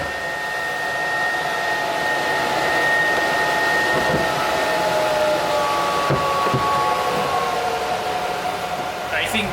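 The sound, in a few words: homemade cooler fan blowing air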